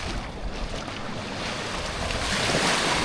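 Gentle surf washes ashore at a small protected beach tucked behind a breakwater, a steady broadband rush with some wind, swelling slightly louder toward the end.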